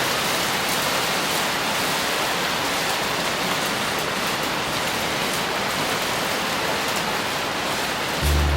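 Heavy rain falls in a dense, unbroken hiss, loud and close, holding steady for the whole stretch with no voices over it.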